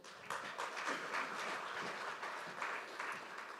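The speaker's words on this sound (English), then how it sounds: "A warm round of applause." Faint, distant audience applause at a maritime security conference, a soft continuous patter of clapping.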